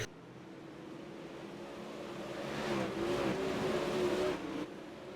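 Super late model race cars at Volusia roaring past on the track, a distant engine drone that builds and peaks as the pack sweeps by before easing off, with no voices.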